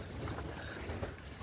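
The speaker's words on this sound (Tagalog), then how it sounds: "grabe ang hangin sa labas kaya medyo maingay guys" Strong wind roars steadily outside a greenhouse on an eggplant farm, a dense, continuous rushing that buffets the microphone, close and loud with no voices.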